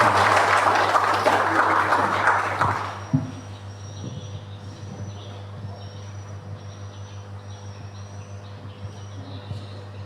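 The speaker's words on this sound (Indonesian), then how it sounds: "kita beri tepuk tangan itu" A congregation at a vicar's ordination ceremony applauds in a loud burst of dense clapping that stops abruptly after about three seconds, leaving a low steady hum and faint background noise.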